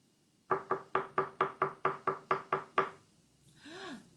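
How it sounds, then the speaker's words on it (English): Ten sharp, evenly spaced knocks on a wooden door ring out close and clear in a steady rhythm, followed by a short pause and a soft rising voice. "Knock, knock, knock."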